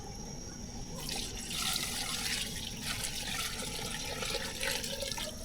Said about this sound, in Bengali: কষায় নিছি ভালোভাবে, এবার ঝোলের পানি দিয়ে দেবো